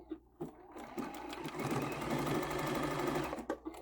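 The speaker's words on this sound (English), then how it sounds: "The machine is ready to do a locky locky, and then it starts sewing." A sewing machine stitches a quilt-as-you-go table runner, starting with a few short clicks, then running in a steady, fast whir up close before stopping.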